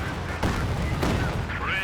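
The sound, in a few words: Katyusha rocket artillery in the video game Company of Heroes 2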